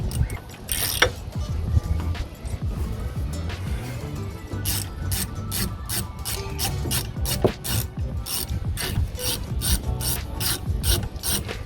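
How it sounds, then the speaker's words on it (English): A socket ratchet breaks loose the front brake caliper sliding pin bolts, giving a fast, steady run of close, crisp pawl clicks that continues throughout with no talking. "then you use H7 socket to break these bolts loose"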